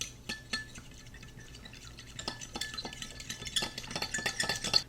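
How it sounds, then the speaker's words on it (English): Rapid light clinking and scraping of a fork against a bowl while whisking a cornstarch and water slurry, a quick repeated rhythm that grows busier toward the end. "I'm just going to blend this together with a fork."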